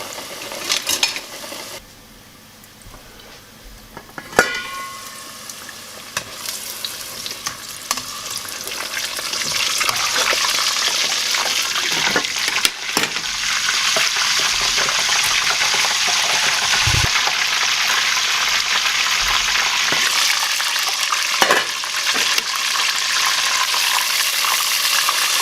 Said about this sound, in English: we're going to fry these until they are golden brown and turn once